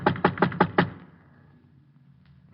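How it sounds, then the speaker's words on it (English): Knuckles knocking on a brownstone's front door, six quick, firm raps in a steady rhythm, close and loud, followed by a quiet pause. "I went up and knocked on his door."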